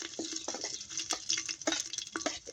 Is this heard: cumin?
yes